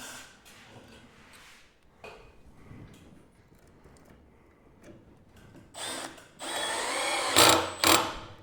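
A power drill drives screws into workbench wood, with quiet intermittent whirring early on and then louder bursts of driving near the end as the clutch clicks and slips.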